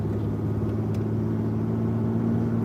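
An older car's engine idles smoothly and steadily after a fresh oil change, a continuous low rumble close by with no voices.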